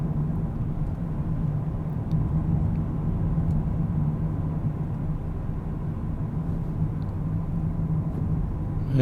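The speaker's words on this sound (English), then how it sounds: "And there's a car." Single car passing on a quiet rural road in Connecticut, a steady broad rumble of tyres and engine heard from inside a moving vehicle, continuous and moderately loud with no voices.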